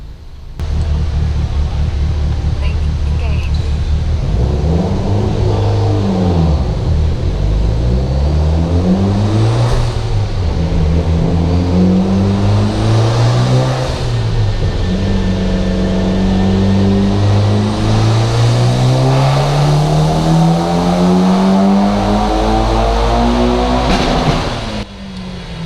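A turbocharged Mitsubishi Evo X with upgraded cams, oversized valves and a flex-fuel tune revs hard on a dyno, its engine note climbing through a long, loud full-throttle pull that drops and climbs again before cutting off.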